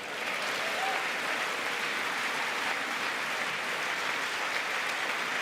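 Applause during a State of the Union address, a broad steady wash of many people clapping in a large hall, sustained and even at moderate distance, with no speech on top.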